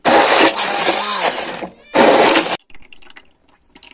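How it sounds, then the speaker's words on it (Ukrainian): A loud blender whirs in two bursts, pureeing cooked tomatoes, with a short pause between, then cuts off, leaving a few faint clinks and knocks. "Зараз буду варені ці всі помідори перебивати блендером до пюрешки."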